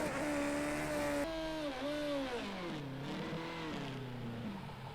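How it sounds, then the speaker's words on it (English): A Formula X race car in Project Cars 2 screams at high revs, its engine pitch climbing, dropping sharply through gear changes and sweeping down as it brakes, loud and close with no talking. "I decided to have my first go in a Formula X car."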